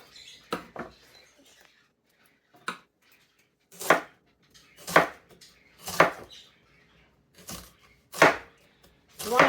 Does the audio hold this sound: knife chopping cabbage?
yes